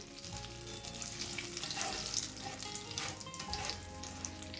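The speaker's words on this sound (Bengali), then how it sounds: "ওয়ান থার্ড কাপ পরিমাণে বড় দানার মুগ ডাল এগুলোকেও একটু ভেজে নেব" Large-grain moong dal fries in a pan of oil, a dense, continuous bubbling sizzle heard close and alone, with a low steady hum beneath it.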